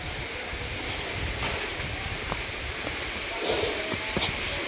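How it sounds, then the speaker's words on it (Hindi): Water pours down a waterfall at Sitakund, a constant broad rushing roar with wind buffeting the microphone and a few faint knocks, no speech. "झरने का पानी पूरा झरझर करके गिर रहा है।"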